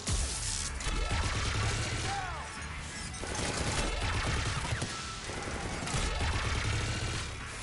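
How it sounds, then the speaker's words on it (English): Gunfire and crashing impacts from a firefight in the video game Mass Effect 3, a dense, continuous barrage of shots and smashes with chirping sweeps, loud and steady throughout. "Just following the gunfire."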